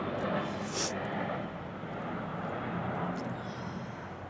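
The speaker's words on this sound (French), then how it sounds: "puis là il y a un avion qui passe" A fixed-wing airplane passes overhead outdoors as a steady, broad engine roar that holds at a moderate level throughout, with someone talking over it.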